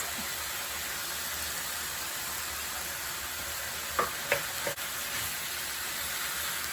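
Potato and carrot fry with browning ground beef in a pan for Indonesian pastel filling, giving a steady close sizzle with a few brief clinks of a utensil partway through.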